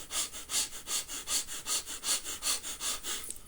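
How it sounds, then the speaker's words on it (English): Rapid breath of fire done through the nose: about a dozen quick, sharp sniffing exhalations in a steady, even rhythm, close and fairly loud, with no voices. "Fire breaths for 90 minutes."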